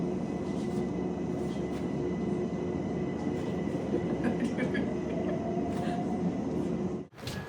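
A train rumbles steadily in a continuous low roar with faint squeals and clatter, ending in a sudden brief dip.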